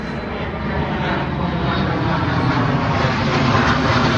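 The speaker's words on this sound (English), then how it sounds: "I'm tired of these planes flying over every 10 minutes." An airplane passes overhead, a loud, steady broadband rumble that holds and swells slightly over the whole span, with no voices over it.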